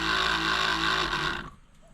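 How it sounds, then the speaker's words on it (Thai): A small old 12-volt electric sprayer pump whirs steadily for about a second and a half, then cuts off abruptly, leaving near silence. "อาการกดปั๊มตัวเก่านะครับ"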